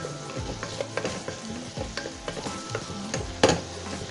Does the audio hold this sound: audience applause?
no